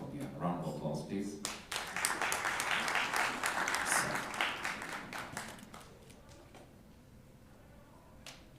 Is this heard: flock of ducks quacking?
no